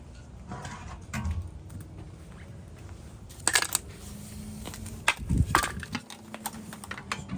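A brake caliper is pried off the front of a 2020 Ford E450 during a pad and rotor job, bringing scattered metallic scrapes, clicks and clunks with a couple of louder knocks over quiet shop background.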